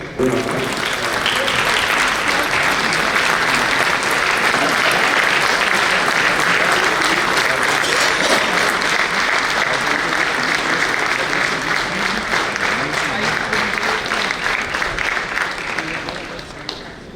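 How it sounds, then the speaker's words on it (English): A gathering rises in a standing ovation for the Chief Justice of India at a Delhi High Court Bar Association event, sustained dense applause filling the hall steadily and loudly from start to finish. "I request for a standing ovation from the gathering"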